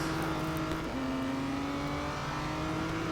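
Aston Martin Vantage GT3 with a 4.7-litre V8 in the Real Racing 3 racing game, its engine droning steadily at high revs with a brief pitch dip as it shifts, then climbing again, loud and continuous.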